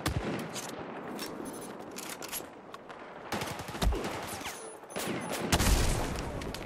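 Rapid bursts of gunfire in a Battlefield 1 match, with clusters of sharp shots and automatic fire, some heavier blasts and brief lulls between volleys, moderately loud and without talk over it.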